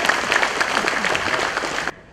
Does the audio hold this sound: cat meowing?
no